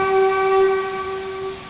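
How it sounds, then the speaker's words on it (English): A default BMG train whistle in Train Sim World 2022, a steady, loud, sustained tone with a clear pitch and a hiss of steam under it, held with no break. "that's the default BMG whistle"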